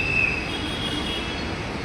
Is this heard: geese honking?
no